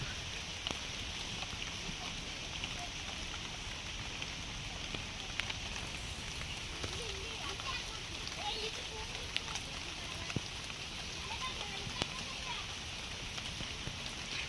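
Steady hiss of heavy rain falling on surfaces on a misty hill, dense and continuous with scattered drop taps, moderately faint and without any voices.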